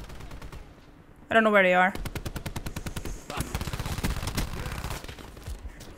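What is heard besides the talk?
gunfire from hip-firing in video game Black Ops 4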